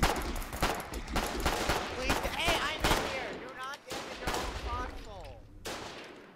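Friendly soldiers fire guns during a Foxhole game battle, bursts of rifle and machine-gun fire rattling at close range in clusters of shots, with a few voices calling out between the volleys.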